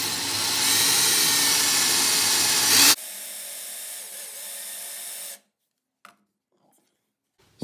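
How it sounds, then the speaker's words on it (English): A power drill with a tile bit whines loudly for a few seconds while boring through tile, then continues more quietly, then stops, leaving near silence with a couple of faint clicks. "move from the 1/8 bit drill to the 3/16 drill bit"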